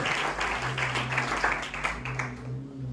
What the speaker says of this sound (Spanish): ¿Cuántos damos un fuerte aplauso hoy y bendecimos la santa palabra del Señor?